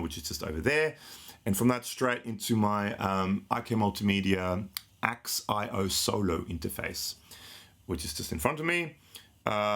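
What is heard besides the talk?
No distinct noise like a dog, phone or traffic.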